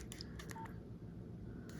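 Faint beeps from a Nokia 1260 phone keypad during a game of Snake, several short tones in a quick burst early on and one more near the end, over a quiet steady background hiss.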